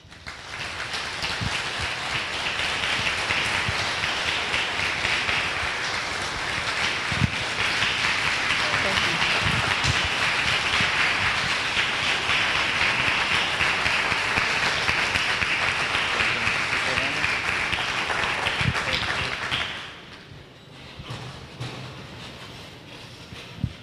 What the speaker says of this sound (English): thank you very much for that much appreciated applause